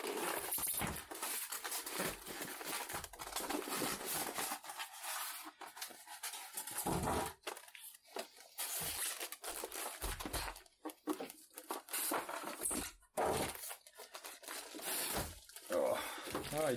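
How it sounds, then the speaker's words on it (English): Polystyrene packing squeaks and rubs in repeated bursts as a Pioneer PX-V60 retro computer is unboxed, loud, close and irregular, with pauses and some talking between. "There's going to be quite a lot of squeaking."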